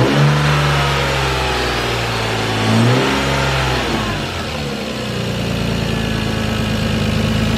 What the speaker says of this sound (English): I might as well give you guys some quick revs